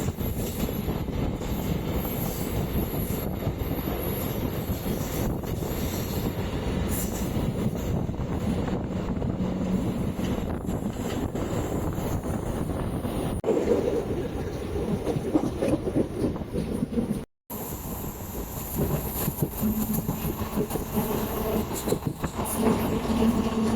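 Interior rumble of a moving Ernakulam MEMU passenger train in Kerala, a steady loud roar of wheels and carriage noise with occasional clanks and a brief dropout, continuing without talk.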